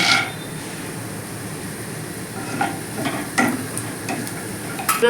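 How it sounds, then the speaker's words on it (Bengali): Lentil dumplings (bori) frying in hot mustard oil in a kadai give a steady soft sizzle throughout, with a few sharper crackles and pops toward the end, heard alone and close. "এবার আমি প্রথমে বড়িগুলোকে ভেজে নেব"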